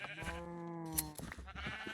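A sheep in the Minecraft video game gives a single wavering bleat, clear and close, followed by a few soft clicks with no talking.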